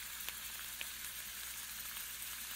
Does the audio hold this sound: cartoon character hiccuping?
no